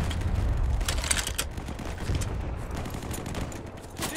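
Sustained heavy gunfire in the World War II shooter Easy Red 2 at Stalingrad, a dense fusillade of overlapping rifle and machine-gun bursts rolling on continuously at close range.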